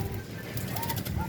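A zebra dove gives a brief, soft coo near its nest, over faint background noise.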